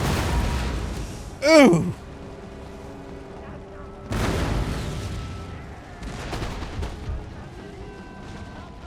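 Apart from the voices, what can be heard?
artillery volley firing in Total War: Empire video game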